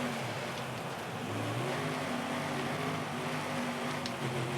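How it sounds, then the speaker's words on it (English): Ford and BMW race cars revving on a gravel stage, a continuous muffled engine drone with low rumble, steady and somewhat distant, without clear sharp revs. "All over that BMW, struggling for traction with his enormous engine."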